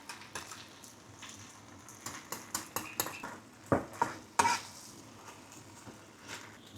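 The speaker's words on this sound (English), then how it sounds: "Give it a mix." Char kuey teow noodles are stirred and tossed in a wok, producing a series of scraping clinks from a utensil against metal over a soft, continuous sizzle. The strikes are close and sharper near the middle, with no talking.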